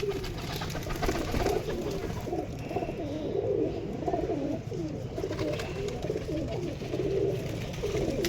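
Home pigeons freed from their loft coo steadily nearby, a long run of warbling, undulating murmurs from several birds over a continuous outdoor hum.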